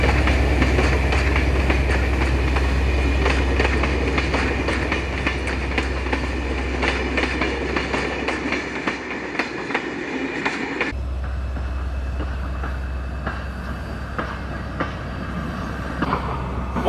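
A train rolling steadily on rails with a low rumble and rhythmic clicking of wheels over joints, recorded close and continuous.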